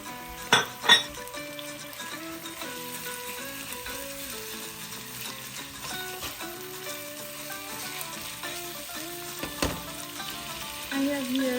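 Lean ground pork sizzles and fries in a pan, with a steady crackle, occasional utensil clanks against the pan, and brief stirring scrapes, close and continuous.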